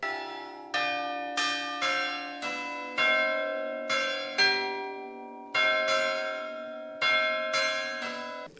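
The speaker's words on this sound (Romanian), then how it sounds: "Aceste 8 clopote sunt 8 note muzicale" Tower clock bells of a Palace of Culture, a set of eight tuned bells, ring a melody of loud, resonant strikes about once a second, each note sustaining and overlapping into a rich ringing tone with no voices.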